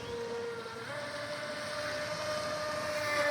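A 25-inch stepped hull RC boat's electric motor whines steadily as it runs across water, its tone jumping higher partway through and holding strong to the end, with no voices.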